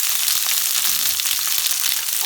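Peppers for a chicken jalfrezi frying in a hot pan, giving a loud, continuous crackling sizzle that stays dense and even throughout, close up, with no voices over it.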